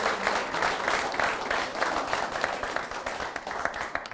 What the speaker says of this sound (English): Another round of applause for our FBU National Championship governing body.